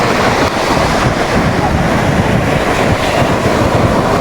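Heavy surf crashes continuously on a seashore, a loud unbroken roar mixed with wind buffeting the microphone.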